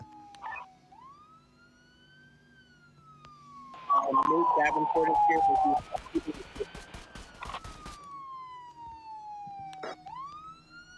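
A police car siren wails and sweeps in pitch, rising and falling through the clip, with a brief burst of loud clatter and commotion partway through and faint voices beneath.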